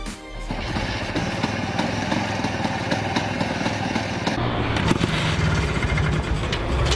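A British-built Bond minicar, a cheap kickstarted microcar, runs at a drag strip. Its small engine gives a loud, steady buzzing drone from start to finish.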